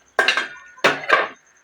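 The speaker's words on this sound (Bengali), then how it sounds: "এবার আমি ঢাকনাটা খুলে দেখব।" A metal lid comes off a cooking pot with two sharp clanking knocks, close and loud, followed by a light ringing clatter.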